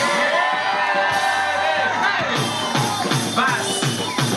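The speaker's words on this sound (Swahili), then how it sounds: "1, 2, 3 wapi shangwe na vigeregere" A festive crowd at a celebration bursts into loud cheering, whoops and high ululation, with overlapping shouts and rhythmic rises of noise close by.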